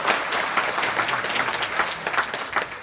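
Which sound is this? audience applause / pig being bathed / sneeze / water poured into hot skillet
audience applause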